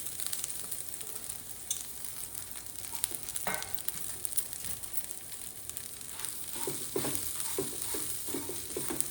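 Two handfuls of grated coconut stirred in a pan for a red chilli chutney: soft sizzling and scraping, with light spoon knocks clustering toward the end, fairly quiet and close, no talk.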